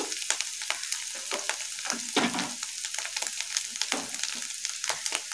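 Onion paste fries in a pan with turmeric, giving a steady close sizzle broken by repeated scraping stirs from a spoon, with no voices.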